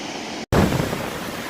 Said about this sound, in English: Just that wind coming off of the waterfall